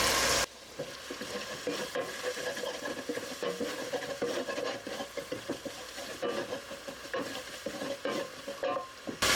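Flour is stirred into hot fat in a frying pan for gravy, a utensil scraping and rubbing rhythmically against the pan over a steady close-up sizzle.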